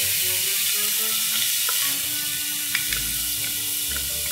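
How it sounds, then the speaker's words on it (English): Garlic, onions and peppers sizzle in a hot pan with a steady, bright hiss, while occasional soft scrapes and clicks come from stirring the vegetables. "So just mix those veggies around just for a little bit, maybe about 2 minutes until it becomes really fragrant."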